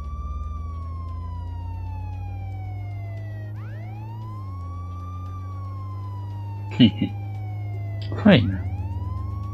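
A police car siren in the Contraband Police video game wails in long rising and falling sweeps over a steady low engine hum, with a short spoken remark and a couple of brief louder bursts near the end.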